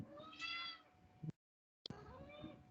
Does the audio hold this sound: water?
no